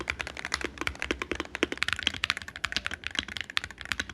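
Rapid typing on a Wooting 60HE V2 Hall effect keyboard gives a dense, uneven run of crisp, close keystroke clicks and clacks, heard alone without talk.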